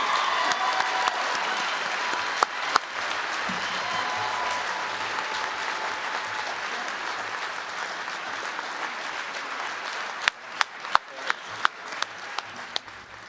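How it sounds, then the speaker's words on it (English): Banquet guests applaud Spokane science scholarship winners with dense, steady clapping that continues evenly, ending in a few louder, separate claps near the close. "a final round of applause for the 2025 Spokane Scholars in the category of Science"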